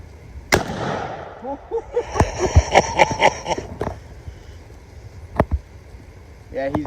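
Rifle shot fired at a target 30 yards away at camp: one sharp loud crack early on, followed by clattering handling noises, a few later snaps and people talking nearby.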